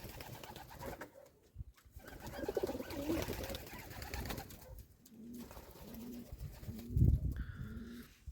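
Pigeons in a village coop coo in a steady series of low, repeated phrases, moderately close, with rustling and movement around them.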